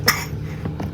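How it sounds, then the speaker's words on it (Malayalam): A single short cough near the start, close and fairly loud, followed by faint breathy sounds. "ചുമയൊക്കെ വന്നേ."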